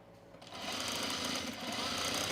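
Sewing machine running steadily to tack a pocket at the side seam of overalls, a fast continuous stitching whir close up, starting abruptly and staying loud with no talk.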